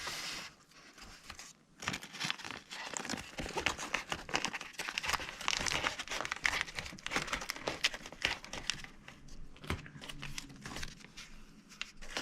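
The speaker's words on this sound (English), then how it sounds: "Tape it up just like this." Tape pulled from the roll and wrapped around foam armor pieces for a berserker costume, faint crinkly tearing and rustling bursts at close range, quiet, no voices.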